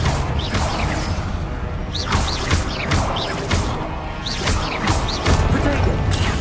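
The Confringo blasting spell is fired repeatedly in Hogwarts Legacy, with several sharp crashing explosions and whooshing impacts in quick irregular succession over a dense, loud combat soundscape.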